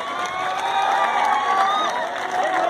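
A cricket-ground crowd applauds and cheers loudly to welcome a guest, with whoops and shouting mixed into a dense, continuous roar.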